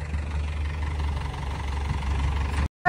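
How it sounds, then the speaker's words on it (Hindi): A concrete mixer truck's diesel engine idles steadily at a steel plant construction site, a low, even rumble that runs unbroken before cutting off abruptly near the end. "तो आ गया अपना कंक्रीट गाड़ी भी"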